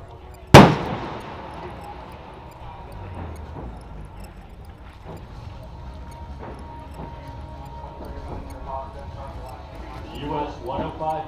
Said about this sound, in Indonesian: Mari kita dengarkan bersama suara meriam 105 Howitzer Amerika Serikat